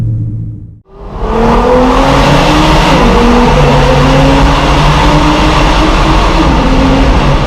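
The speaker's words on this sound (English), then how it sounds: "what do you guys think of the noise this car makes also with the valves closed?" After a brief silent gap, a BMW M3 exhaust bursts to life and revs hard with the valves closed, its loud, close engine tone climbing and falling.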